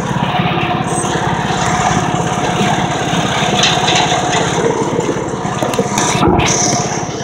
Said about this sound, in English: Okay, I speed up the lawnmower.